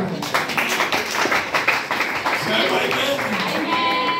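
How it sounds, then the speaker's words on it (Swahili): A church congregation claps their hands in praise, a dense run of rapid, fairly even claps from many people, close and steady, with talking over the clapping. "tupigie Bwana makofi basi"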